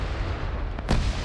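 A grenade bursts in a multiplayer shooter game, one sharp blast near the end of a steady rumbling battlefield din, with faint distant gunfire before it.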